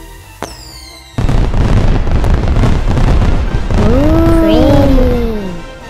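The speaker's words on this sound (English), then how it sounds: "The fireworks did go off." Fireworks crackle and pop in a dense, loud burst, with whistling rising streaks cutting through near the end.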